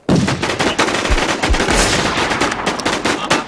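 Loud, rapid bursts of automatic gunfire in the online survival shooter Infestation, dense cracking volleys filling the whole stretch with only brief gaps.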